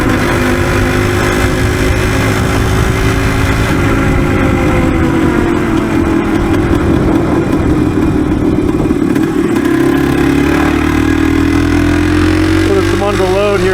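A Yamaha DT360 motorcycle engine with a freshly tuned carburetor pulls under load in third gear, a loud continuous engine drone that rises and falls in pitch, heard close from the rider's position.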